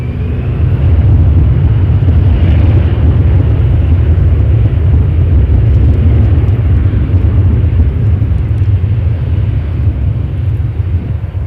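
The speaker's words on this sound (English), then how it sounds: "There it is. And that's headed to San Diego on an A320." Airbus A320 jet passing at Toronto Pearson Airport, a loud, steady, broadband engine roar with deep rumble that holds close and strong throughout, with no talking over it.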